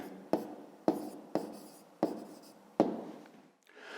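A pen writes by hand on paper, making five distinct, evenly spaced scratchy strokes, quiet and close, with a soft rubbing at the end.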